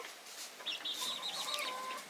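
Chickens cluck inside a homestead coop at bedtime, a close series of high, warbling clucks and short squawks over a quiet background, with no talking.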